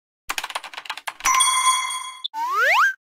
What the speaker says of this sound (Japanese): ピンポン。